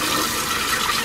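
Water splashes and sloshes steadily while cassava is rinsed, a close, continuous rushing sound with no speech.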